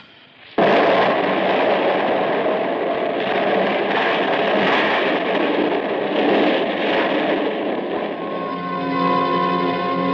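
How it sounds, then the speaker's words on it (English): A dynamite blast staged as an old-time radio drama sound effect: a sudden loud burst that swells into a long, heavy roar and rumble, then settles into a lingering tonal hum near the end. "the dynamite was going to go off because I wasn't outside to stamp out the fuse"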